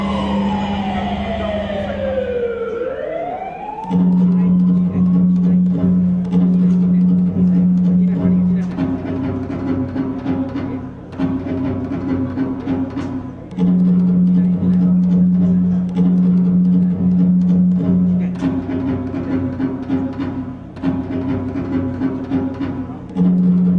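Ambulance siren wailing close and loud, an opening sweep that dips and rises, then a steady two-tone alternating pattern repeating throughout.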